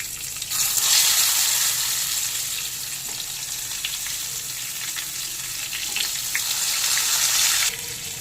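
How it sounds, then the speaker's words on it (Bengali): Steady, loud sizzling of eggplant frying in hot oil, a dense crackling hiss that swells after a moment and continues without any talking. "তেল গরম হয়ে গেছে, বেগুনগুলোকে তেলের মধ্যে ছেড়ে দেব।"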